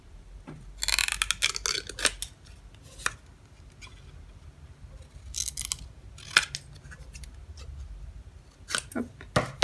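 Scissors snip through paper for a children's craft headdress, giving a series of crisp, close cuts in uneven bursts with pauses between them and no talk over them.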